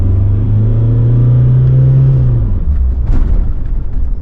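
Close, loud revving of a Mitsubishi L200 pickup engine during a throttle test. The low note holds high for about two seconds, then falls back to a rough, rumbling idle.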